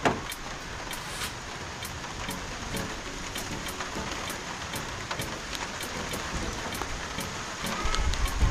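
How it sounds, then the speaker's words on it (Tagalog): Heavy typhoon rain drums on a canopy in a rural province, a dense roaring patter with regular sharp drip-like ticks throughout that swells louder near the end. "Okay na, lakas na yung ulan."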